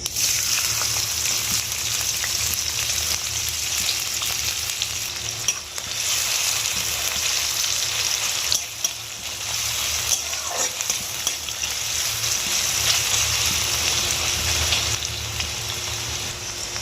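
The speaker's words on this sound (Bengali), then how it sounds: "তেলটা গরম হয়ে গেছে, এবার আমি পেঁয়াজটা দিয়ে দেবো।" Onions sizzle in hot white oil in a wok for potato biryani, a loud, steady frying hiss with occasional stirring scrapes running without pause, no talking.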